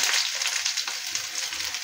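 Chopped onions frying in a pan over a medium flame, a steady bright sizzle close up and continuous without pause.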